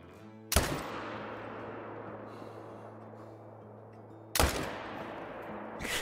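Two loud rifle shots from an AR 300 Magnum in the hunting game Call of the Wild, each a sharp crack with a long rolling echo, spaced about four seconds apart over a steady low outdoor hum.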